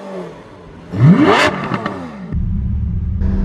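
A Lamborghini Aventador S Roadster engine revs up sharply in a loud rising roar, then drops back to a steady deep rumble while driving in the city.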